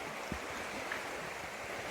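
A creek along a backcountry trail in Georgia flows with a steady, even rushing wash, moderately close, with a couple of faint low knocks.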